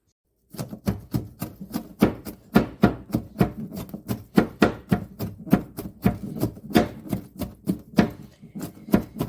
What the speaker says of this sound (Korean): 우선은 고추를 곱게 다져 보도록 하겠습니다